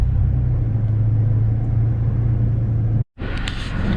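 A 2016-or-newer Toyota Tacoma pickup with the 3.5L engine runs as a steady, close low rumble with a droning hum, then cuts out briefly and comes back fuller and brighter, as if catching and starting up again.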